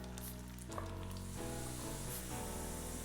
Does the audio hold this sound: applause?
no